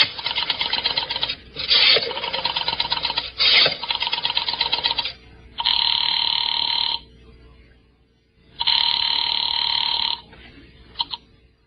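A telephone ringing after a number is dialed: short bright ring bursts separated by gaps, followed by two longer, steadier ring tones and a brief final chirp, close and clear.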